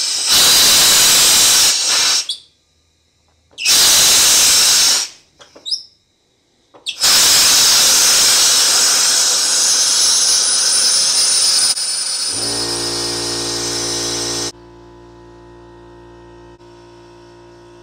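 Compressed air blasts through water pipes in a pole barn: loud hissing bursts cut on and off several times, then a long steady rush of air with water sputtering, ending in a quieter hum.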